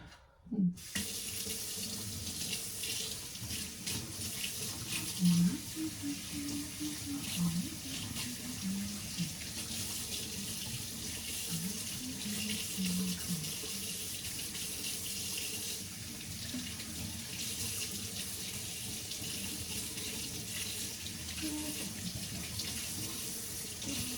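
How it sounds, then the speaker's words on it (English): Running kitchen tap pouring steadily into a sink as a whisk is rinsed beneath it, a constant close broadband water rush with faint clinks, continuing alone throughout. "Let me clean the whisk."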